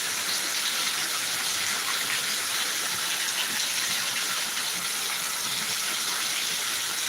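Steady, dense rush of heavy rain pouring down, a continuous broadband hiss with no pauses and no voices.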